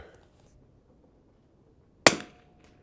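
A single sharp shot from a Winchester 52B target rifle on a 100-yard range cracks out after near silence, loud and close with a short fading tail.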